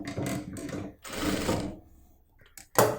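A sewing machine stitches fabric in short whirring bursts with pauses between them, fairly close and steady, ending with a brief louder mechanical clack.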